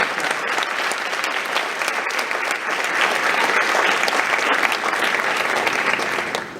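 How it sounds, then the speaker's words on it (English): An audience at a high school academic awards night gives teachers a long, dense round of applause, a continuous wash of many hands clapping at a steady, even loudness with no talking over it. "could you please join me with a huge round of applause to our amazing teachers"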